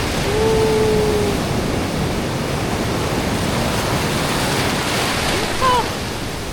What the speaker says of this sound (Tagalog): Ayun, lakas ng alon.